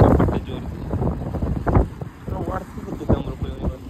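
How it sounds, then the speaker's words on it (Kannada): Strong wind gusts across the Sasthan river at night, buffeting the microphone in rough, uneven rushes while people talk close by. "ಗಾಳಿ ಸಿಕ್ಕಾಪಟ್ಟೆ ಜೋರು"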